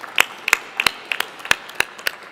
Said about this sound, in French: Je vais demander également à l'assistante de vous applaudir pour ce Grand Prix 2012